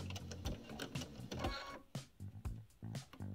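A sewing machine stitches fabric for a cathedral window quilt block, its needle chattering in quick close bursts that stop briefly in between, with no talk.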